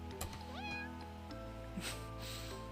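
Two or three faint cat meows from the video game Purrfect Date, with a rising, whistly tone. They sit over a steady background music bed and a low hum.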